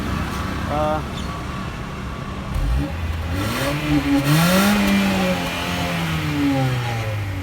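A Honda City ZX GXi petrol engine, freshly decarbonized, revs up repeatedly, its pitch sweeping upward and settling back in rising and falling waves, loud and close, while someone talks over it.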